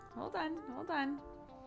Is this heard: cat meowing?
yes